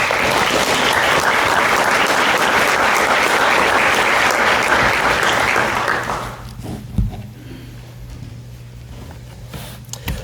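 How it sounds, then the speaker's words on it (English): A debate audience gives a loud, sustained round of applause for a speaker taking the stage. It fills the first six seconds, then fades into room noise with a few stray claps and a low hum. "please have a round of applause for Christopher Mills"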